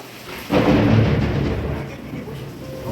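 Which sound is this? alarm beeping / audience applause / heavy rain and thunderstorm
heavy rain and thunderstorm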